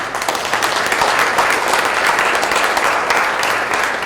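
Sustained audience applause fills a hall at a community elder-honoring ceremony, a dense, steady wash of many hands clapping at close range without a break.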